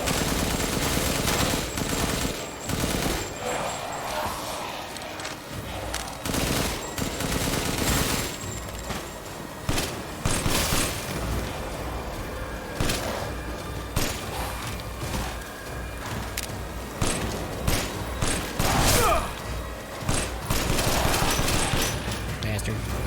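Heavy gunfire from a big gun in the video game Resident Evil Village: loud, rapid bursts of booming shots and thuds throughout, with someone talking over the action at times.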